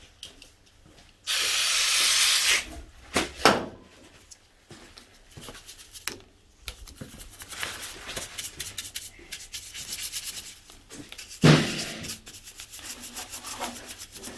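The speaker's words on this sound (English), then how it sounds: "Just give it one more spray and just dab it with that" Spray cleaner hisses into a Suzuki DR200 airbox in one sustained burst, followed by quieter rubbing and dabbing sounds and another short hiss near the end, all close up.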